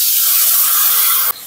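A splash of water hits spice paste of ground turmeric and chili frying in a pan, giving a loud, steady steamy hiss that cuts off abruptly near the end.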